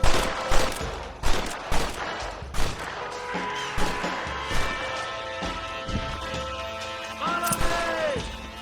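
Repeated gunfire from a Red Dead Redemption shootout, sharp loud bursts clustered in the first few seconds then thinning out, with rumbling explosive thumps, echoing reports and some game sound effects trailing toward the end.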